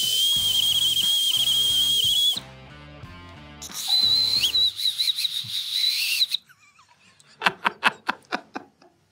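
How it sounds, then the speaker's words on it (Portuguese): A whistle played as a musical instrument sounds a long, piercing sustained tone, then rhythmic trilled and warbling passages, ending in a series of short sharp chirping blasts, all loud and close with no talking. "Eu preparei uma peça de apito que envolve a maioria das técnicas usadas para esse instrumento."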